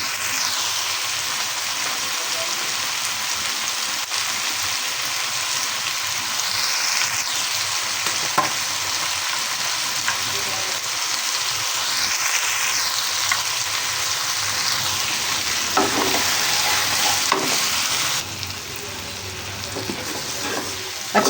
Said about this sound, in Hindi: अच्छी तरह से इसको मिक्स कर लेंगे, ताकि इसकी जो महक है वो ख़त्म हो जाए